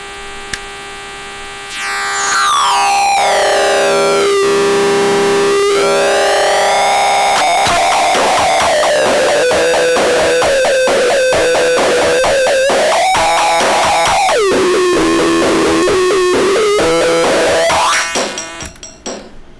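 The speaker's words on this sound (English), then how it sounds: "This switch right here causes a kind of buzzy distortion type thing" Circuit-bent Casio SA-2 keyboard playing loud, sustained buzzy distorted tones that sweep and wobble in pitch, harsh and continuous for most of the stretch before cutting off near the end.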